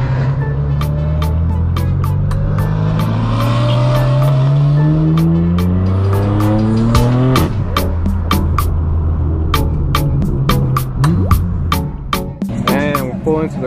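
A straight-piped BMW M4 F82 exhaust roars close by as the engine revs in repeated rising and falling sweeps, mixed with sharp clicks and crackles, loud and dominant throughout.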